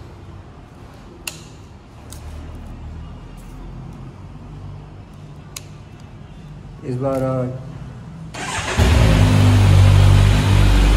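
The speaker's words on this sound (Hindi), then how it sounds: "मैं आपको गाड़ी की साउंड सुनवाता हूँ।" A Kawasaki Ninja 1000SX motorcycle with a BS6 engine starts with a short rising crank and then bursts into a loud, sustained rev close by. Quieter speech and background noise come before it.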